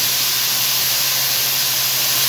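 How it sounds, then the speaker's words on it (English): Thin slices of steak for a Philly cheesesteak sear in a hot pan, a loud, even, continuous hiss that holds steady throughout with no voices. "And then we're just gonna leave that to sear for a short while."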